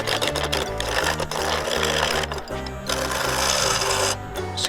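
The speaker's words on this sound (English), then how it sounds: "So, take 2, roughing again with the skew." A skew chisel roughs down a wood blank spinning on a lathe, giving a dense rhythmic chattering and rasping that pulses close and loud throughout, with no speech.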